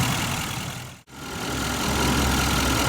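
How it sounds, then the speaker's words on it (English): A 2016 Nissan Titan XD pickup with a Cummins V8 diesel engine idles steadily, a loud, even low rumble that continues without a break apart from one brief cut. "Now, the Titan XD equipped with this Cummins V8 engine is the only kind in its class"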